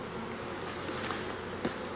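A steady, droning hum of many honey bees buzzing together fills the air continuously, close and fairly soft, with no voices.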